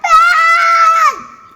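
A young child lets out a single loud, sustained high-pitched scream close by, lasting about a second before trailing off into a whimper.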